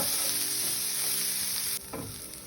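Spicy kara kuzhi paniyaram batter fries in oil in the wells of a kuzhi paniyaram pan, a steady, close, loud sizzle that continues throughout.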